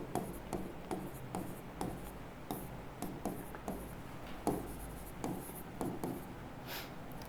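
Pen or marker strokes writing out a logarithm rate-constant calculation in a chemical kinetics lesson, close and steady, with repeated short scratchy taps and rubs in an irregular rhythm, no voice.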